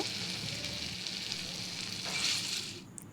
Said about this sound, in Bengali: এইভাবে সব বড়াগুলো আমি ভেজে তুলে নেব।